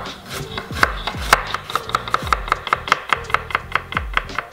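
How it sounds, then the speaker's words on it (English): A knife slices through carrots on a board in a steady run of crisp, evenly spaced chops, each with a dull thud, close and clear with no talking. "Peel four slender carrots or two larger ones. And then you're going to want to slice them."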